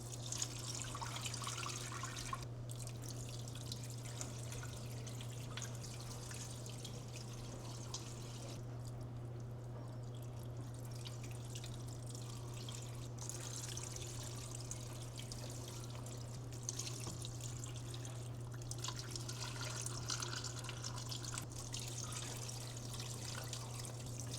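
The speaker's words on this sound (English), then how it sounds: "I'm going to fill our pot up with water, just enough that it's covering the surface of all of the ingredients in here." Water runs from a kitchen tap into a pot of bone broth ingredients, a steady rushing pour with a low constant hum underneath, lasting without pause.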